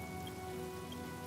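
Rain falls steadily in Honkai Star Rail, a soft continuous patter sitting under quiet game ambience with a faint tonal hum.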